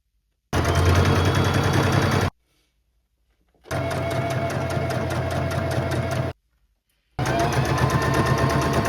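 A sewing machine stitches elastic along a side seam of a thrifted garment, running in three loud, steady bursts of rapid stitching separated by short silent pauses, close up with no talk.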